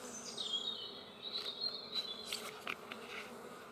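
Honeybees buzz around an opened hive during a spring beekeeping inspection, a close, wavering insect drone with individual bees flitting past at varying pitch.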